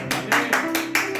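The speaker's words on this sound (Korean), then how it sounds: "주께 큰 박수 주시죠." Church congregation applauding during a Friday worship service, a steady wash of clapping swelling in bursts over sustained music.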